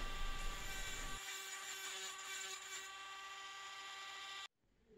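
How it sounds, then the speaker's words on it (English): A Dremel rotary tool polishing an antique French kerosene lamp gives a steady, high, close whine for about four seconds before cutting off abruptly. "So I'm going to finish up doing some Dremel on this one."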